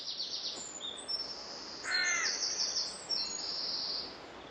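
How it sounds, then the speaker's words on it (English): Several birds call outdoors in the countryside, with high chirps and squeaky notes scattered over a steady background of ambient noise, fairly distant. "You'll hear plenty of bird song here"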